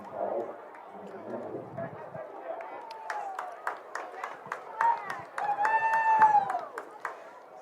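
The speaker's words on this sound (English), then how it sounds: "You hear some sarcastic flag claps" Sarcastic crowd clapping at a high school varsity football game, scattered sharp handclaps rising from a distant crowd in the stands while a commentator talks over them.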